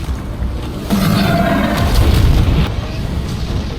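A deep, rumbling nuclear bomb explosion swells and roars for a few seconds, a heavy low blast with a long rolling tail.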